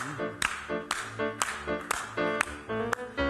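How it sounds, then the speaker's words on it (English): A congregation at a Shabbat service claps along to a song, with sharp, evenly spaced claps in a steady beat and singing voices running underneath. "Not going to sing till we're all clapping."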